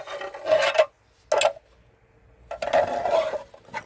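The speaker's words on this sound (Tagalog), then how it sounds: "tatanggalin ko muna ang tornilyo" Screws being removed from a found solar lamp, with scraping, rasping bursts of metal and plastic in three separate spells with quiet gaps between, close by, no talk.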